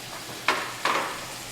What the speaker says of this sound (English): Just always hear that sizzle and let them sit.